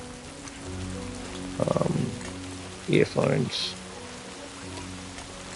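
Rain falls steadily in the video game Death Stranding 2, a soft hiss under a low hum, broken by two short bursts of louder speech.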